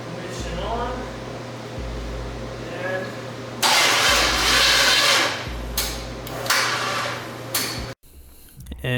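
A V8 engine in a Chevy S10 with a freshly installed Holley Sniper EFI cranks with a loud, rough starter churn that stops and restarts several times. A person talks between the attempts.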